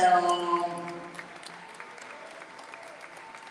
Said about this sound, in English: Please start clapping right now for Bam.